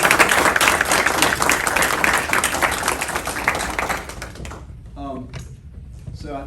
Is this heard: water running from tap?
no